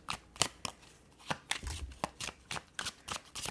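Tarot cards being shuffled by hand, giving a run of crisp, close riffling and slapping bursts in an uneven rhythm, with no voice over them.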